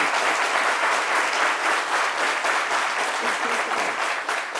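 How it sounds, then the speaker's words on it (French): An audience at a talk show claps steadily, a dense, even round of applause from many hands that continues at full strength throughout and fades slightly at the very end. "Il faut applaudir."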